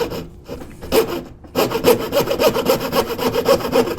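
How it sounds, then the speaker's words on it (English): A hand saw rasps steadily through wood while cutting dovetails for a traditional pipe and tobacco box, with rhythmic back-and-forth strokes, close and loud, that speed up after a brief pause. "We'll cut one by hand."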